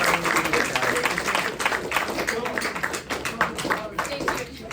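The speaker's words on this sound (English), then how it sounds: "Let's give a round of applause for Coach Ed." Audience applause in a studio setting, dense clapping spread across the whole stretch at steady loudness, with voices mixed underneath.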